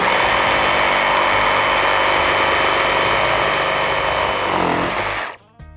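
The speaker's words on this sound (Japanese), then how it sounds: "ちょっとじゃあこれ今度パレットを切ってみましょうね" A Makita JR002G cordless reciprocating saw in straight mode rips through a wooden pallet, its loud buzzing motor grinding steadily for about five seconds before spinning down and stopping abruptly, with no talk.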